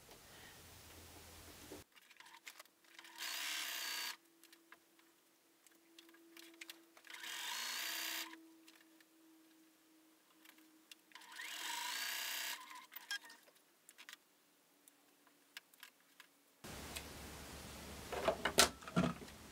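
Sewing machine chain piecing quilt block pieces, running in four separate bursts of steady whirring stitching with quiet pauses between them, close and moderately loud with no talking.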